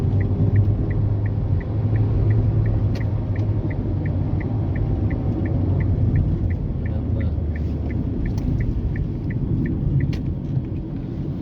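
Kia Rio pulling out to overtake on a busy, narrow road between Palembang and Jambi, heard from inside: a steady low engine and road rumble with a quick, regular ticking of the turn indicator running throughout.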